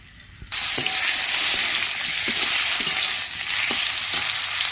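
Pointed gourd frying in a pan with turmeric, salt and chilli: after a quiet start, a sudden strong sizzle spreads into a dense, steady crackle, broken by soft stirring knocks, close and loud, with no talking.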